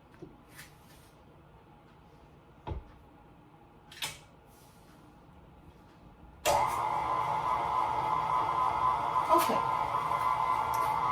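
An electric stand mixer starts up partway through and whirs steadily and loudly while creaming three sticks of butter with three cups of sugar for a pineapple upside-down poundcake, after a few quiet kitchen clicks and knocks and one brief spoken word.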